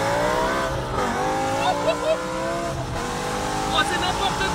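A 2006 BMW M5 with a supercharged 730-horsepower V10 accelerates hard, its engine note climbing through gears with a shift break, loud and close from inside the cabin, with brief tire chirps and voices over it.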